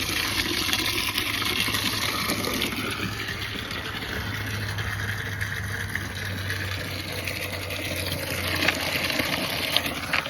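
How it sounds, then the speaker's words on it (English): Water pours steadily onto avocado trees, a continuous rushing wash with a low engine-like hum running beneath it for the whole stretch. "Yeah, so about to water these trees and show y'all what we got."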